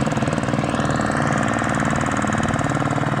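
Two farm machine engines running together on a field, giving a loud, steady, rumbling drone with a fast, even mechanical pulse and no pauses or talking.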